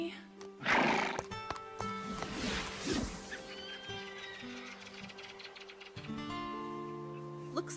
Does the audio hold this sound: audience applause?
no